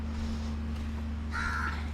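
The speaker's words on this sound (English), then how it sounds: "You will hear different birds chirping." Crow caws ring out over a steady low hum on Dhonfanu island in the Maldives, a harsh call standing out near the end against constant background noise.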